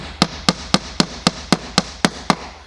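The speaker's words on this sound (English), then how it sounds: "the hammer I'm using is a nice small kind of tack pin hammer with 2 heads" A small two-headed tack pin hammer drives pins for model railway track on a diorama, with nine sharp, evenly spaced taps at a steady quick rhythm, close and loud with nothing else heard.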